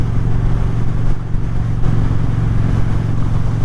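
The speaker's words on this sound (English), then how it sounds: "with this new exhaust that I have on here, you can definitely hear it at this speed" A steady, deep aftermarket exhaust drone from an Indian Springfield motorcycle holds at constant speed, loud and close, mixed with continuous wind rush.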